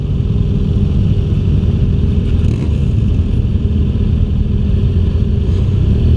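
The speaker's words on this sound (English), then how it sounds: "We're about to go here on the R1200R." BMW R1200R motorcycle on the move, a steady loud engine drone with rushing wind noise, heard continuously from the rider's position without any voices.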